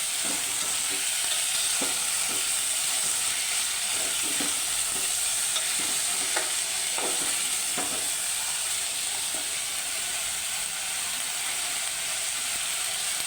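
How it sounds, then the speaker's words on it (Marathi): Vaal papdi beans sauté in hot oil in a pan, a soft steady sizzle with scattered scraping and stirring clicks from a spoon, close by and with no talking. "शेंग भाज्या बनवताना कधीही तेलामध्ये थोडंसं एक दोन एखादा मिनिट असं परतवून घ्यायचं तेलामध्ये"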